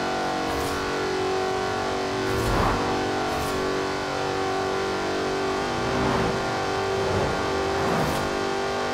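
A Jaguar Project 7 in Forza Horizon 4 drones steadily with a strong engine tone, swelling in several revving surges and gear-change dips, loud and continuous with no talking.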